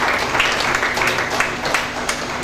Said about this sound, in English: Please a round of applause for him as he moves over to the high table